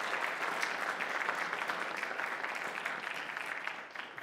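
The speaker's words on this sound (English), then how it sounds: "Would you give them a round of applause?" Applause from a church congregation during a Methodist Sunday worship service, dense and steady clapping that fills the room at moderate volume, then tapers slightly toward the end.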